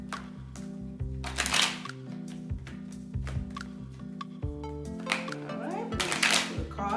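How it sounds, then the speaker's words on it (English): Tarot cards are shuffled close up in repeated riffling bursts, crisp flutters of card stock that start and stop irregularly, with soft musical tones underneath. "Alright, we're going to shuffle the cards."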